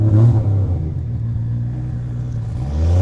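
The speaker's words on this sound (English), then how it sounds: "Man, that car is so loud." A loud Ferrari F12 drift car engine rumbles deeply and rises into a rev toward the end, close by and with nobody speaking.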